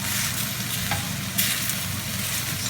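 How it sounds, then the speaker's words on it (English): A utensil stirs Italian stuffed pepper filling in an aluminum pan, giving continuous close scraping and a steady sizzle with no talking. "Let's go ahead and mix this up before we add the sauce."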